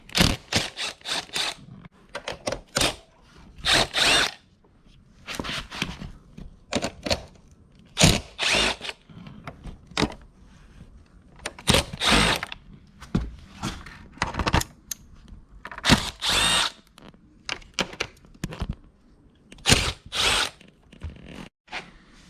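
A power driver fitted with a 5.5 mm socket backs out hex screws from Audi Q7 trim during a head unit install, giving repeated short bursts of whirring with brief pauses between, close and fairly loud.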